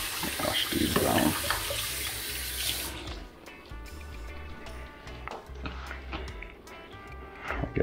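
Tap water runs loudly over green onions being washed at a sink for about three seconds, then gives way to quieter dripping, rinsing and handling noises with occasional clicks.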